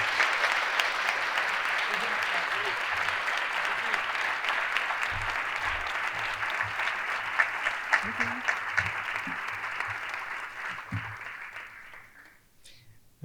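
A conference audience applauds steadily to welcome a keynote speaker on the reconstruction and restoration of Notre-Dame de Paris, with sustained clapping from a sizeable crowd that fades out toward the end; faint low sounds sit beneath it.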